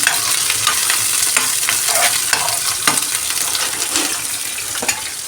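Onions and curry leaves fry in hot oil with a steady, close, crackling sizzle that runs the whole time, and a spatula now and then scrapes and stirs through it.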